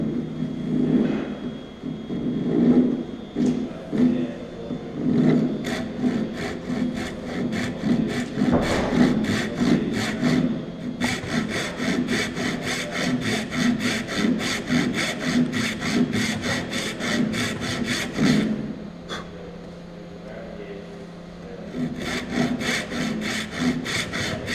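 A hand saw cuts a joint in wood in a woodwork demonstration, first with slow, irregular drawbacks, then long runs of rapid, regular rasping strokes close by, with a short pause before sawing resumes.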